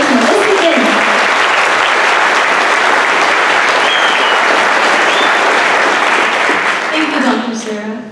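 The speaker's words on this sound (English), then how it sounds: "Let's give her a huge round of applause and welcome to the stage, Mellisa Dinh." A large audience at a scholarship award ceremony breaks into loud, sustained applause to welcome a speaker to the stage, dense and steady throughout, then tapering off at the very end.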